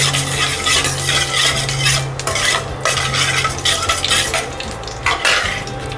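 Peanuts, chana, red chilies and cumin seeds frying in a vessel for vangibath, with a loud continuous sizzle and repeated scraping of a spoon as the mix is stirred.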